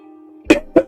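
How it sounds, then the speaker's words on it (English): Someone coughs twice in quick succession, close and loud, after a low steady hum. "Sorry for the coughing."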